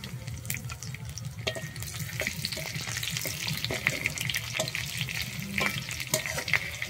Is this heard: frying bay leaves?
yes